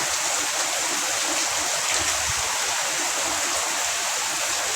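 A dense, steady hiss of heavy rain pouring down close by, constant and loud without pause, with faint low rumbles underneath and no voices.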